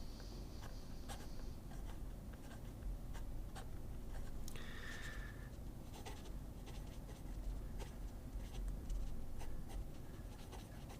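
A fountain pen nib scratches across paper, faint and close, with soft repeated strokes and small ticks over a steady background hiss, no talk.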